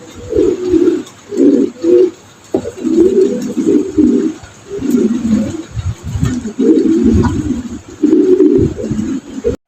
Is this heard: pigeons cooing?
yes